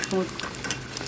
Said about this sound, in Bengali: এখানে আমি এখন চিকেন সমুচা ভেজে নেব।